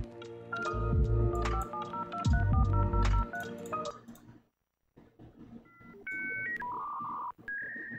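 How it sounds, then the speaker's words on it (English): A dial-up internet modem connecting over a phone line, with a run of loud tone bursts and dialing beeps, a short silent gap, then steady electronic handshake tones and warbles. "Dial-up internet."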